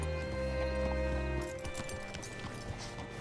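Horse hooves clip-clopping slowly in Red Dead Redemption 2, a few soft, evenly spaced steps close by over a steady low ambient hum, with no talking.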